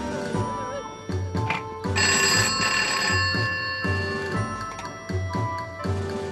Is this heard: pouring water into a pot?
no